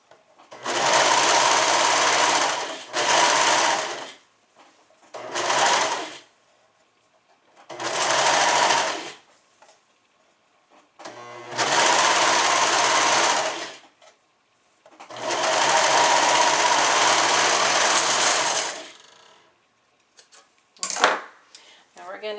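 An electric sewing machine stitches a seam through several fabric layers of a suit, running in about seven bursts of steady whirring separated by short pauses, loud and close, with no one speaking.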